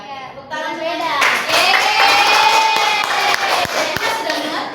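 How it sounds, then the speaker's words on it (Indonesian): A classroom of people clap their hands together in a loud, dense burst of applause that holds steady for several seconds before tapering with a few final claps. "Ya, Tepuk tangan beda."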